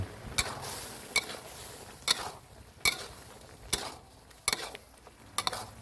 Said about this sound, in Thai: ใส่เครื่องครบทุกอย่างแล้วก็ผัดอีกครั้งสักครู่หนึ่งก็ใช้ได้เลยนะครับ